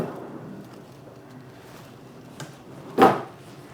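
A hotel room drawer at a Disney resort slides open or shut, one short clear thump near the mic after a quieter bump, with low room hum and no talk.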